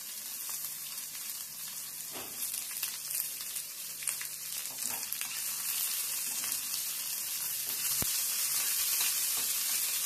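Onions sizzling and frying steadily in a pan for a ridge gourd curry, a continuous close crackle with faint stirring, growing slightly louder toward the end, no talk.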